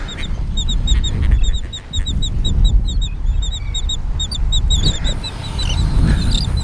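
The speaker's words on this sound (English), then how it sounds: "Look at all these birds." A flock of ducks or geese calls outdoors with repeated honks and quacks over a loud rumble of wind.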